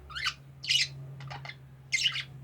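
A pet budgie chirps close by in a few short, bright bursts, with quick clustered tweets between them over a faint low hum, and no one talking.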